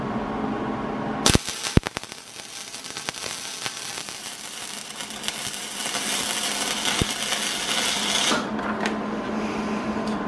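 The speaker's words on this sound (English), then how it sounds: "We're going to go ahead and weld it all the way around, and hopefully we'll have us a good handle on this." Arc welding a handle onto a pallet pry bar: after a couple of sharp clicks, a steady crackling buzz runs for several seconds, close and moderately loud, then cuts off.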